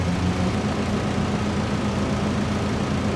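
Diesel engine of a Kubota U48-4 mini excavator with an air-conditioned cab in Farming Simulator 19, droning steadily and loudly at a constant idle-like pitch, with no voices.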